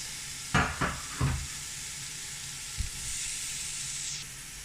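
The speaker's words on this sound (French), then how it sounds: "je rajoute mon mélange ail, oignon et un petit peu de tomate" Garlic, onion and a little tomato hit a hot casserole pot with a small water base, giving a few sharp sizzling bursts that settle into a steady, quieter frying hiss nearby.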